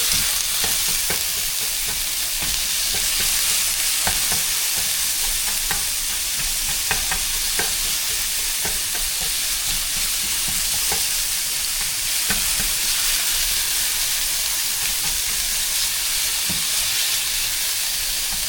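Bison and eggs sizzle steadily in a hot pan while a utensil chops and scrapes through them, with a continuous close frying hiss and scattered sharp taps, no talking.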